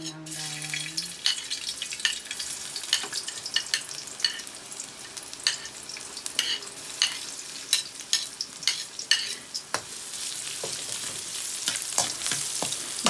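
Pork and garlic fry in a pan for binagoongang baboy, a low steady sizzle punctuated by frequent sharp spatula scrapes and clacks as the meat is stirred.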